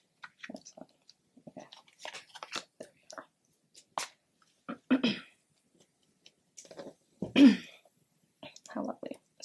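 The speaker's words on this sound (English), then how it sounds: "Sorry about like clearing my throat" Someone clearing their throat several times in short rough bursts, close and fairly quiet, with soft mouth noises and brief speech sounds between.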